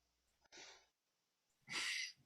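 Two quick, breathy bursts close to the mic, the second louder and sharper, like a person sneezing, with brief quiet between them.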